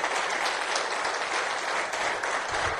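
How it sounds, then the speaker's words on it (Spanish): A congregation at a church marriage workshop gives loud sustained applause to welcome visiting pastors, a dense continuous clapping from many hands in an indoor hall with no talk over it. "¿Por qué no les damos un aplauso fuerte para la bienvenida a los hermanos?"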